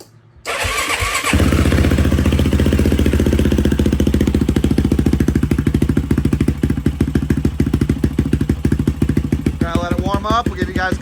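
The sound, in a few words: Yamaha YFZ450 quad 500cc stroker engine starting and idling with Dasa exhaust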